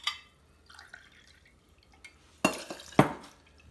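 Tequila poured for margaritas, a few faint early trickles followed by two short, louder splashing pours with glassy clinks, close by.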